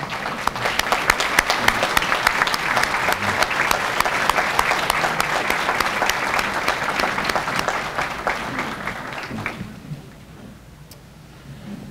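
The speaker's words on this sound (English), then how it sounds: "Please stand up and let's give them a round of applause." An audience at a high school academic awards banquet gives staff a sustained round of steady applause that holds for about nine seconds, then drops off quickly to a quiet room.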